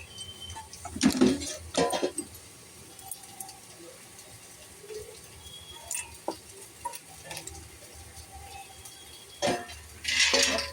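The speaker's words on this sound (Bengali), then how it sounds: "এইবার আমি চিড়েটাকে ভেজে নিচ্ছি" Flattened rice (chira) fries in a pan while a spoon stirs and scrapes it, giving soft rustling with intermittent metallic clinks and a few louder bursts of clatter.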